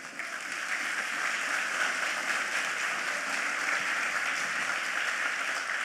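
A church congregation applauding: dense, steady applause that holds at an even level throughout, with no voices rising above it.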